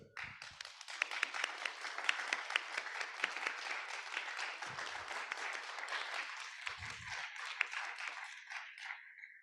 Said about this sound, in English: asking for a hand of applause for them